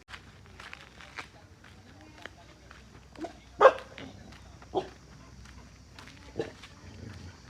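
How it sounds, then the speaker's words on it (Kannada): A dog barks several times in short, separate bursts at a moderate distance, spread across a quiet outdoor scene with faint background noise and scattered footsteps. "ನಾಯಿ ಬೇರೆ ಬೊಗಳ್ತಾಯ್ತಪ್ಪ."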